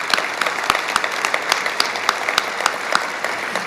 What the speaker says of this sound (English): Please join me in a round of applause for all of our partners.